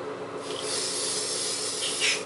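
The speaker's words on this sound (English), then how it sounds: "you can add a little bit of hairspray also to the" Hairspray sprayed onto chalk-colored hair, a steady close hiss that starts after a brief quiet moment and runs continuously to the end, swelling slightly near the finish.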